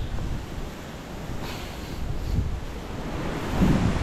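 Strong, storm-like wind blows across an open outdoor trail, a steady rough roar with microphone buffeting that swells slightly toward the end, with no voices.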